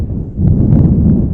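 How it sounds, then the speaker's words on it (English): Low, rumbling buffeting of strong wind gusts against a microphone at an outdoor high school softball game, steady and loud throughout with no voices. "That wind, wow, you can probably hear that in the mic right now."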